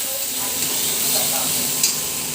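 Dry red chilli frying in oil with vegetables, a loud, dense continuous sizzle close by with a brief sharper crackle near the end.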